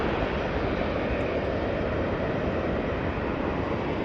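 A TUI Boeing 737-800 jet roars through its takeoff roll, a dense, steady broadband engine noise that holds loud and unbroken throughout, with no voices.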